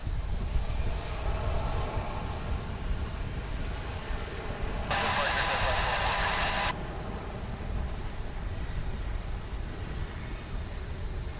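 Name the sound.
Boeing 757 jet taking off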